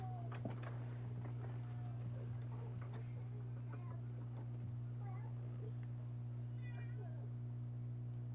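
A cat gives a few faint, scattered meows over a steady low electrical hum, quiet and somewhat distant throughout.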